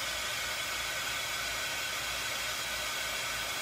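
A heat tool blows continuously while drying a craft piece with black chalk paste, producing a steady, even hiss and whir with no breaks and no talking.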